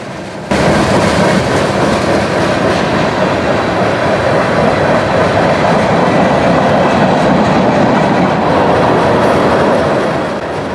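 A long manifest freight train with a tank car and grain hopper rumbles past close by, a loud, steady roar of wheels and cars with faint clattering, continuing without pause.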